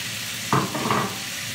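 Pork pieces dropped into a hot pan for pork nilagpad, sending up a short burst of sizzling and frying that swells twice and then settles back to a low hiss, close and moderately loud.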